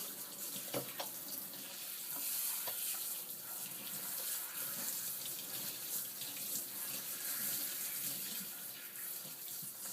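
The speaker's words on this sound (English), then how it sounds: "and then we begin rinsing, okay? And you just work the rinse water through." Running tap water rinsing a cat during a grooming bath, a steady splashing gush that continues throughout at close range with small shifts in flow as the water is worked through the fur.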